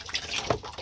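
Water splashes and patters from a garden hose into tubs outdoors, a brief, steady wash of running water with a small surge partway through.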